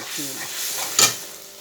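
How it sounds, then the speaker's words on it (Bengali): Water poured onto fried spices in a pan for a potol and cashew dish, a sudden loud sizzling burst near the end over a low background hiss. "মশলা ভাজা হয়ে গেছে অল্প জল দিয়ে দিচ্ছি"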